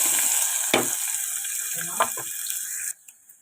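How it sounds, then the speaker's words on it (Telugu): Onions frying in hot oil, producing a bright, steady sizzle with a few clattering bursts from the pan before the sound cuts off abruptly near the end. "ఇప్పుడు ఈ ఆయిల్లో ఆనియన్స్ వేసుకున్నాం"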